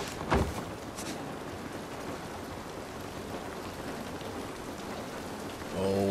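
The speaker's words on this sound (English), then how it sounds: "Oh, baby, look at that rain. Look at that. Oh, I love the sound." Steady rain falling in the video game The Last of Us, a dense even hiss of drops on surfaces with a brief louder splash early on and a low tonal hum rising at the end, no talk.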